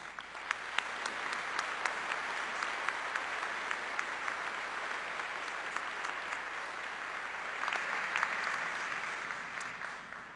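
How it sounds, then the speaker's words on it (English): At a spring university convocation, an audience gives a sustained round of applause for an award recipient, with steady, even clapping from a large crowd heard at moderate distance with no speech. "Please join me in a round of applause for Rebecca."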